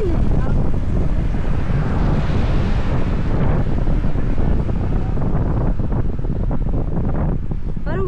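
A strong, constant gust buffets the microphone on a high mountain road at Malico, a heavy, unbroken roar that lasts throughout, with faint voices underneath.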